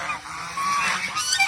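Large-breed domestic geese on a farm where they are sold, honking loudly and close by in a dense, overlapping burst with no voices.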